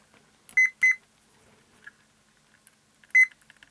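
A multimeter checks continuity across the pins of an input switch on an Audio Alchemy Digital Decoding Engine V1.0, giving two quick, loud, close electronic beeps, then a third beep after a pause.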